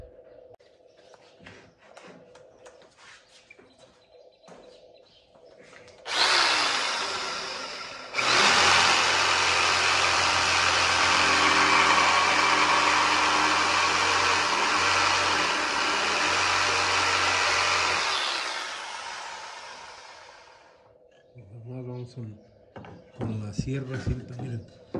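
A band saw cuts a wooden board to make a push stick in a workshop, a loud steady whine and rumble running about twelve seconds after starting up, with talk before and after.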